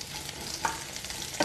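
Vegetable stalks frying in a pan for a Bengali mixed-vegetable shukto, a quiet steady sizzle with a couple of brief stirring scrapes, no voices.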